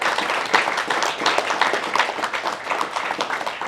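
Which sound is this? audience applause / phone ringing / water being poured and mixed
audience applause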